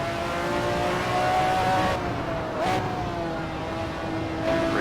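McLaren F1 GTR race car in the Assetto Corsa racing game, its engine droning steadily at high revs with pitch sweeps as it accelerates and shifts through a corner, loud and continuous with no talk.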